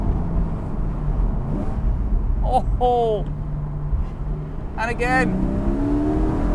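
A Porsche 718 Cayman GTS's rear-mounted 4.0-litre six-cylinder engine drones steadily from inside the cabin as the car drives, rising slightly at times, while someone speaks briefly over it.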